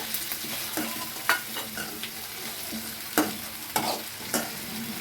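Tomatoes and onions sauté in a generous amount of oil, a soft continuous sizzle punctuated by occasional spatula scrapes and stirs, close and fairly quiet, without speech.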